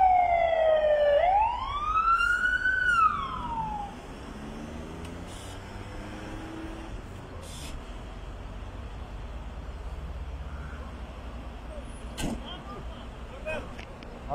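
An emergency siren wails loudly, sweeping up and down before fading, leaving street traffic noise with people talking in the background, at a car accident scene in Blejoi, Romania.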